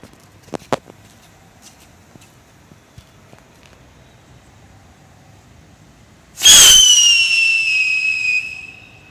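Cock brand sky whistle mini rocket firework heard outdoors: a few faint clicks and steps, then a sudden loud whoosh and a piercing, slightly falling whistle that sustains steadily for several seconds.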